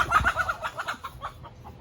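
Backyard chickens cluck in a quick, uneven series of short calls, fairly soft and close, with no talking.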